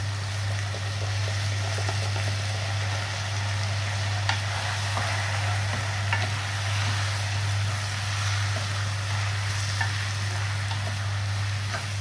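Vermicelli fries in oil in a pan, a constant close sizzle with a low steady hum beneath and a few faint clicks of stirring, without speech.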